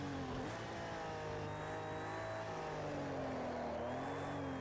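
A Ferrari race car engine in Project Cars 2 drones steadily at mid pitch, shifting tone as it climbs and eases through the revs, with no voices over it.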